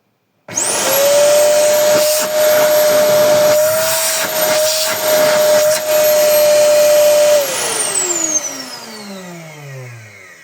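A 750 W household vacuum cleaner motor switched on and run at full power, a loud, steady close whine with a constant high tone and airy roar, then winding down in falling pitch.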